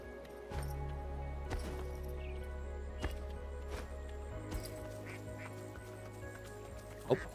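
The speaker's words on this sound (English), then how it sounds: "Oh, I heard a duck. I hear several ducks." Ducks in the video game Dungeons of Hinterberg quack faintly a few times against a steady hum and game ambience, with no voices present.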